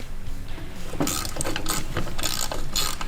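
Ratchet loosening a connecting rod bolt on a cheap 250cc five-speed go-kart engine, a quick run of sharp metallic clicks close by, rapid and loud for about two seconds.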